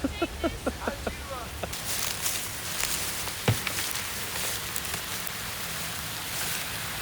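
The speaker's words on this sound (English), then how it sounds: "it's cold and it's raining" Cold rain comes down in a park as a constant soft patter, with a few sharp nearby knocks and thuds. Voices talk over the steady wash at the start.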